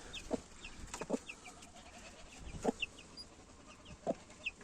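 Chickens clucking inside a coop full of loose feathers, several short clucks and calls spread across the clip at close range, with faint higher bird chirps in the background.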